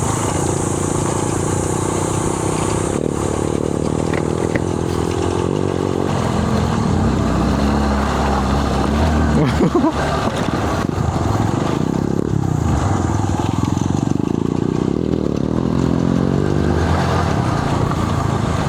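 Motorcycle traffic on a busy road heading to a beach resort, with several engines droning and revving past at close to middle distance in a continuous stream, and no talking.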